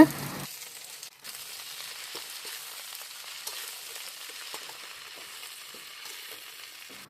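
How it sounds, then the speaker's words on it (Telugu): Gongura leaves frying in oil in a pan for pickle, giving a soft, steady sizzle that carries on evenly at low volume after a brief louder clatter at the start. "ఇప్పుడు ఆయిల్ వేసుకుంటూ గోంగూర అయితే మీరైతే ఫ్రై చేసేసుకోండి"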